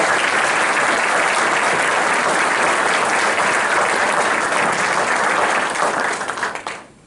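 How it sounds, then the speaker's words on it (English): An audience at a ceremony bursts into dense, sustained applause that holds steady and loud, then fades out quickly at the end. "Please, a round of applause for Dr. Lawson."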